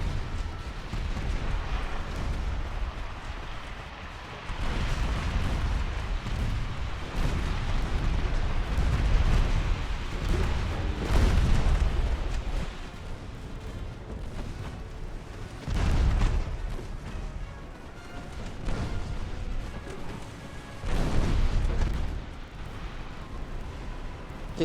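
Warship main guns booming repeatedly in the naval combat game Ultimate Admiral: Dreadnoughts, heavy low blasts recurring every few seconds over a constant rumbling battle backdrop.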